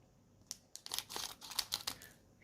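Faint crinkling and tearing of a thin plastic Magic: The Gathering booster pack wrapper, several quick crackly bursts close by in an otherwise quiet room.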